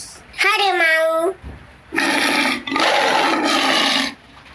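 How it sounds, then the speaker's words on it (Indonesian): A tiger roar plays from an animal picture-matching toy. A voice speaks first, then come two loud, rough roaring bursts. "Harimau."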